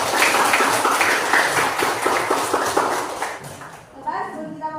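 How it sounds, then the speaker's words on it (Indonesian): Students in a classroom clap their hands together in a steady, brisk round that fades near the end as a voice begins to speak. "tepuk tangan."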